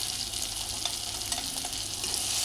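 Tomato and onion sautéing in a pan give a dense, even frying hiss with faint stirring scrapes, close and steady over a low background hum, with no talk.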